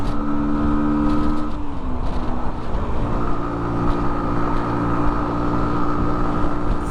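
A 2020 Sinnis Terrain 125 motorcycle engine pulls up a hill in fourth gear at about 45 mph, a loud, steady droning hum with constant wind rush and a slight pitch dip early on.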